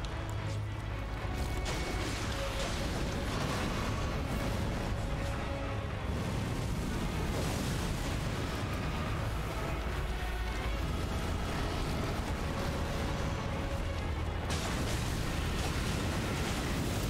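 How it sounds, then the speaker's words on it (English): Explosions rumble and burst continuously in the Elden Ring video game, a loud, dense wall of blasts, crashes and roaring noise that carries on without any talking. "Lots of explosions."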